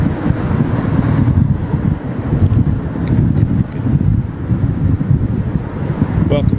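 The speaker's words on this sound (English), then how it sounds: "Blustery winds, it has to be said." Blustery wind buffets the microphone at an outdoor planespotting spot at Heathrow Airport, a steady loud low rumble with gusty swells throughout and no clear voices.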